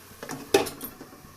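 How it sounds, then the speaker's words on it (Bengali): A lid is set onto a cooking pot of simmering red amaranth and spinach greens ghonto, one short metallic clank close by, preceded by faint shuffling and followed by quiet. "আমি আরেকটু ঢেকে রাখবো"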